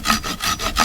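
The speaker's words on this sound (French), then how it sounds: "je vais tâcher de rectifier à la scie" Hand saw cutting wood for a half-lap joint, with steady back-and-forth rasping strokes, about four close, loud strokes in quick rhythm.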